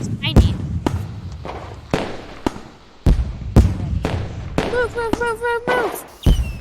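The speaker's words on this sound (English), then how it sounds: "there's fireworks everywhere" Sharp, loud bangs of video game fireworks and TNT artillery burst one after another with crackling tails, while excited players talk and shout over them.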